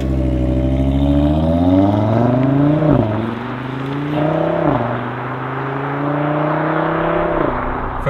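An Audi TT RS Iconic Edition accelerates on the road, its engine climbing steadily through the gears with short dips at each shift, heard from inside the car with no talking.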